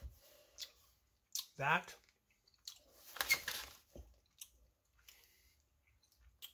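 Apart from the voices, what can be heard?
chewing Hi-Chew candy with a crunchy center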